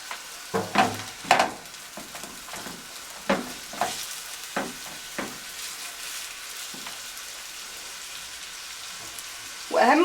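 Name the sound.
onion and garlic frying with spices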